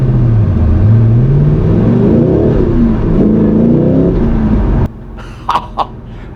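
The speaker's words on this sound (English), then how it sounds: "So I'm going to accelerate away from these lights, and the car just sounds awesome." An Ultima RS's V8 engine rumbles loudly as the car accelerates from lights, pitch rising and falling through the gears, then cuts off abruptly, followed by a few faint clicks.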